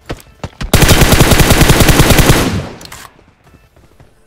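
Gunfire in a mobile battle royale game: a few single shots, then a loud, fast automatic burst for almost two seconds that tails off, with scattered quieter shots afterwards.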